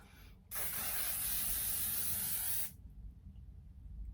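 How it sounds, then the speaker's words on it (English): A face mist spray bottle hisses in a single continuous spray for about two seconds, close and fairly loud, then cuts off abruptly into quiet room tone. "I'm going to give my face a good spray with this."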